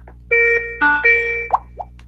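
A phone call rings on a live stream while waiting for someone to answer: steady electronic ringing tones in a few bursts, followed by a couple of short blips, fairly close and clear.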